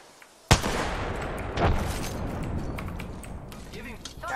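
Gunfire in the video game Apex Legends, a sudden loud shot followed by sustained rattling bursts and rumbling impacts, dense and close for several seconds.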